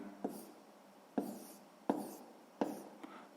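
A pen writes a math solution in a notebook, giving four or five short scratching strokes spaced about a second apart, faint and close, with no talk over them.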